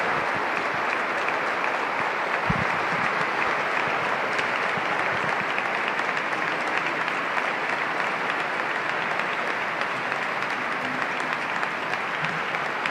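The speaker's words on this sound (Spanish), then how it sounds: "Una larga ovación" A long ovation from the audience at the 2019 Holy Week proclamation in Valladolid: sustained, dense clapping from a large crowd, steady and loud for the whole stretch with no speech over it.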